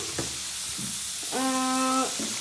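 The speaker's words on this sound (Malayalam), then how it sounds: "ഇതെല്ലാം കൂടെ ഇട്ട് ഞാൻ ജസ്റ്റ് ഒന്ന് ഫ്രൈ ചെയ്യാണ്" Beaten egg seasoned with pepper and salt fries for Kerala-style egg fried rice, giving a faint, steady sizzle throughout, broken midway by a brief tonal hum.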